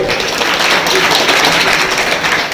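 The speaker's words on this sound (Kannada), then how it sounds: "ಜೋರಾದ ಚಪ್ಪಾಳೆ" Loud applause from an audience at a memorial gathering, a dense and steady wash of many hands clapping close by that holds at the same level throughout, with voices faintly mixed in.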